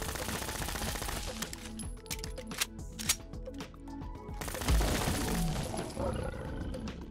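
Deliverer pistol fired in rapid bursts in Fallout 4, sharp repeated shots over a game soundtrack and ambience, with a loud heavy impact midway and dense noise afterward.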